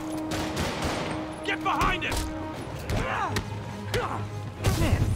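Enemy gunfire in the video game Spider-Man Remastered, bursts of rapid shots and impacts mixed with game effects and music, while a player talks over the action.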